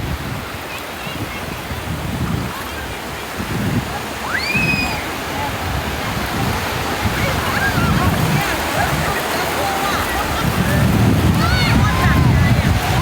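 Waves breaking on the sand at Chao Lao beach, a continuous rumbling surf with swells rising and falling under wind buffeting the microphone, joined by faint bird calls and distant voices.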